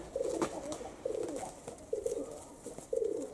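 Pigeons coo softly in repeated rhythmic phrases, about four calls spaced evenly, fairly close but quiet, with faint background rustling.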